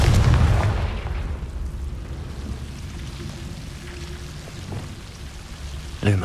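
Confringo fire spell blasts in the Hogwarts Legacy video game, loud booming bursts at the start and again at the end over a sustained crackling, rain-like rumble, with no voices.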